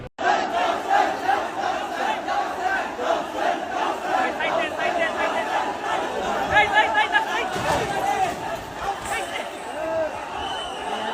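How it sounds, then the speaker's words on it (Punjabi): A large crowd at a chariot procession shouts and clamors continuously after the chariot struck a pole, with overlapping cries and voices forming a loud, dense roar throughout. "ਤੁਸੀਂ ਵੀ ਸੋਚ ਰਹੇ ਹੋਵੋਗੇ ਕਿ ਆਖਰ ਭੀੜ ਇੰਜ ਭੱਜੀ ਕਿਉਂ ਆ ਰਹੀ ਹੈ"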